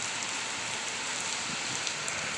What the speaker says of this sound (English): I'm gonna get out of this rain, fellas.